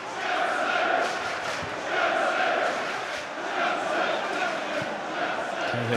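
A large football crowd at an Everton v Chelsea match roars and chants in rolling swells from the stands, loud and continuous, with a commentator's voice faintly in the mix.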